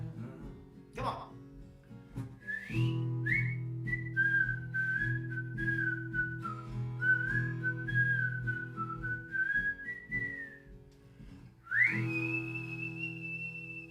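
A person whistles a melodic soul tune in long sustained phrases with slides between notes. The whistling sits over a steady low background accompaniment, clear and close, with a brief break before a final high note.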